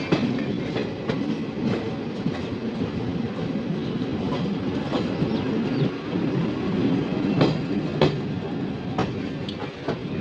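A train runs into Kalyan Junction near Mumbai, heard from on board as a continuous rumble with irregular wheel clicks and clacks over rail joints and faint squeals, moderately loud and without talk.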